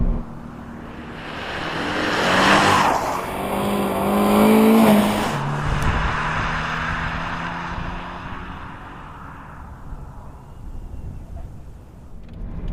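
Toyota GT86 Phase 2 sports car driving and accelerating, engine rising in pitch through two swelling pushes, then easing off and fading as it moves away.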